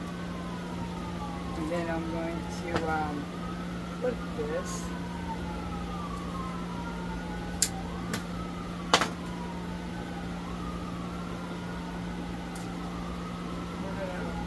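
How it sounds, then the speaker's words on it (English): Wailing emergency siren passing outside, rising and falling in long faint sweeps far in the background under a steady hum, with someone talking quietly over it while crafting. "I do apologize for the siren if you guys can hear it"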